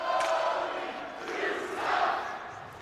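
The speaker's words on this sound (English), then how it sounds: "Crowd giving Blomdahl some pressure." Hockey arena crowd jeering an opposing player during a college Division II game, a broad sustained roar of many voices that swells and dips in waves, fairly loud and close.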